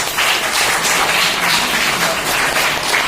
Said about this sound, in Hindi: तालियों से इनका स्वागत किया जाए।